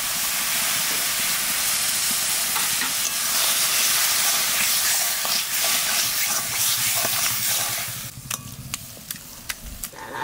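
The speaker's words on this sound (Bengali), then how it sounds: "এখানে তেঁতুলের টক দিয়ে একটু জাল দিয়ে নাড়াচাড়া দিয়ে নামাই দেবো।" Sour tamarind curry with red amaranth stalks simmers in a pan, giving a steady, close hiss and bubbling, with stirring scrapes throughout; near the end the simmer dies down and sharp clinks and spoon scrapes stand out.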